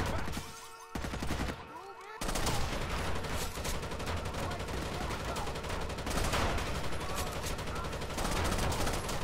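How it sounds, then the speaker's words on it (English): Sustained suppressing gunfire in Rainbow Six: Vegas, with rapid overlapping automatic bursts that start after a brief lull and run continuously and loud to the end, and a voice speaking briefly over it. "That suppressing fire."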